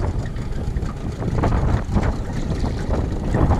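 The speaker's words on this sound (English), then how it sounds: "You can hear that wind." Steady wind over a Southern California harbor rushes across the microphone, a broad low roar with gusts swelling and easing, continuous throughout with no voices.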